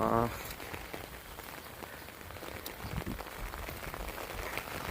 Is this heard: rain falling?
yes